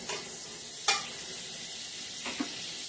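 Butter melting in a hot pan while cooking balsamic chicken with figs gives a soft, steady sizzle with a brief clatter near the start, low and continuous without talk.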